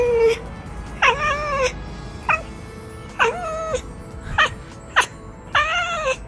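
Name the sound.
cat meowing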